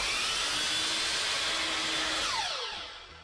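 A Lumberjack Tools Pro Series 12-inch mitre saw makes a 45-degree cut, giving a loud, steady high-pitched whine that winds down in falling pitch over the last second.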